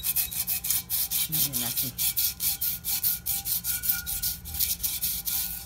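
Rhythmic scraping strokes of garlic rubbed against the underside of a clay pot being cured, steady back-and-forth rasping close by, with brief speech over it.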